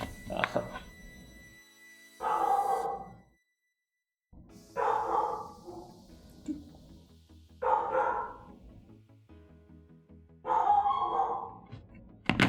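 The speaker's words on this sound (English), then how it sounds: "Dog's barking, but we'll have to just accept that." A dog barks indoors in four separate short bursts spread a few seconds apart, moderately loud and close, with quiet gaps between them and no talking over it.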